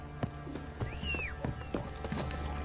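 Horse hooves clip-clop at a steady trot in The Witcher 3, with a short whinny partway through, set against quiet in-game ambience.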